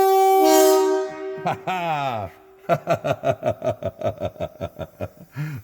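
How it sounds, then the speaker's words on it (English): A long, loud stainless train horn blast on a restored Kenworth truck, then a quick run of sharp repeated honks in a steady rhythm; a voice briefly laughs between them. "That's the stainless train horns"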